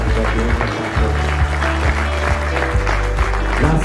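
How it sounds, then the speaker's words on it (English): An audience at a summit applauds in a loud, sustained round of clapping that fills the whole moment, with a low hum running beneath it. "Shall we all give another round of applause for the successful program that we have conducted."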